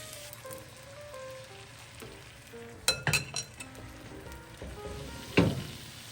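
Egg sizzles in a hot cast iron pan, a low steady frying hiss overlaid by a few close metallic clinks and scrapes of a utensil against the pan, with no talk.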